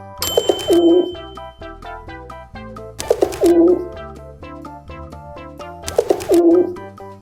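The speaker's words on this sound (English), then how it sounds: "Pigeon." Pigeon cooing in three repeated bursts of soft, throaty calls, with a gentle musical accompaniment between and beneath them.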